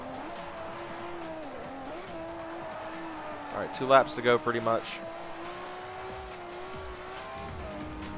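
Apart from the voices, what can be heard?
race car engine and exhaust in video game Forza Motorsport 4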